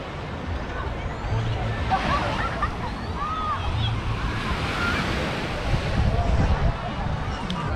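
Ocean waves wash onto a busy Saturday beach at Puerto Escondido, Mexico, a continuous rushing surf with gusts of wind buffeting the microphone and swelling louder toward the end.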